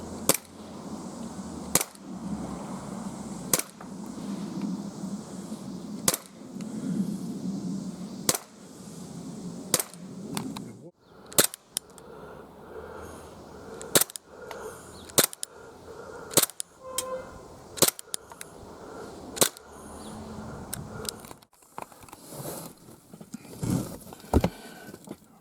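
Gas blowback BB pistol, a Glock 17 Gen 4, fired outdoors in a garden: a long irregular series of sharp, close cracks with snapping slide action, spaced a second or two apart over quiet ambience.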